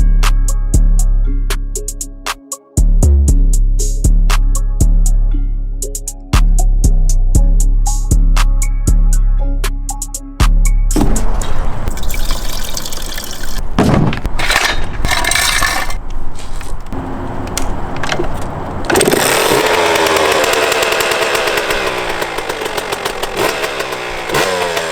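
A Suzuki RM125 two-stroke dirt bike engine runs loud and close, with sharp revving bursts and crackling blips that rise into a sustained high-pitched wail.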